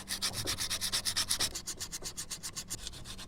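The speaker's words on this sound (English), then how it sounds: "You also want to clean these two pad sections here and around the piston to make sure there's no rust there as well" Rapid back-and-forth scrubbing on the pad sections and piston area of a VW T25 Vanagon brake caliper, a dry, rhythmic rasp of about a dozen quick strokes, close up with no voices.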